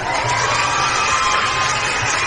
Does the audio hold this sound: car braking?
no